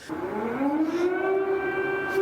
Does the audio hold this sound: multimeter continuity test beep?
no